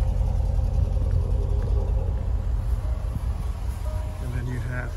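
A deep, low exhaust burble from an idling Range Rover Sport SVR 5.0 supercharged V8 rumbles steadily up close, with some faint background noise near the end.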